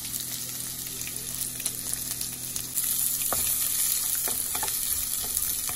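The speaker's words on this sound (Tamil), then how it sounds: "நல்ல மீடியம் ஹீட்டில் வச்சு இதை நல்லா வதக்கிட்டு நம்ம இருக்கணும்" Onion, dried red chillies and garlic sautéing in a pan: a continuous close sizzle with occasional stirring clicks, stepping up in loudness partway through and holding steady, with no voices.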